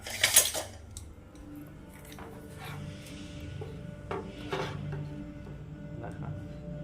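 A metal spoon scrapes and clinks against a bowl holding laccha, with a few sharp taps near the start and then steady rubbing and light knocks, close and fairly quiet.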